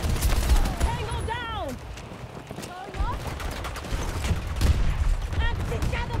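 Automated sentry gun firing in Battlefield 2042, with dense bursts of rapid gunfire and combat noise throughout, plus sweeping whooshes of other game effects and a voice speaking over it.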